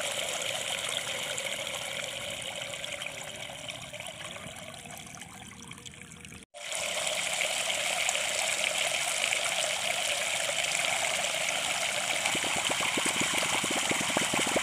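A drum water pump in a rice field sends out a strong, steady gush of water that cuts off for an instant partway through, then resumes loud and continuous.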